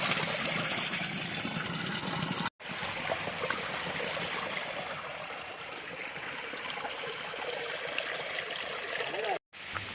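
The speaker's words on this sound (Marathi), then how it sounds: "छोटासा झरा आहे पण पाणी स्वच्छ आहे" A small stream of water flows with a steady, continuous rushing babble, close by, interrupted twice by brief dropouts.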